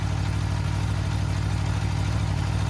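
A Kawasaki H2 SX SE motorcycle engine idles at a steady low rumble, its even pulsing putter close and continuous with no voices.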